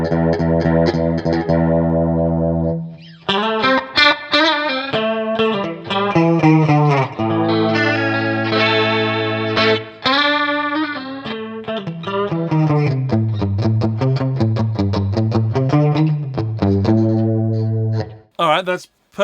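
Electric guitar played loud and clean through a Vox Cambridge 50 modelling amp in a basement studio, a steady run of sustained chords and single notes with a brief pause near the start and a sharp cutoff at the end.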